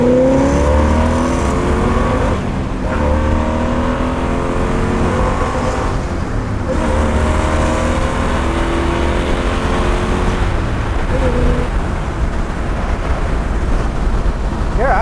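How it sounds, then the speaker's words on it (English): A 1964 Corvette Stingray engine revs hard and loud up and down several times toward redline, its rising and falling tones rumbling close by, with brief talk mixed in. "All right, so we're going to redline her."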